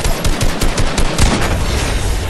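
Gunfire in the video game Fortnite, with loud, close rapid bursts of shots cracking in quick succession, like machine-gun fire, over a dense, noisy game backdrop.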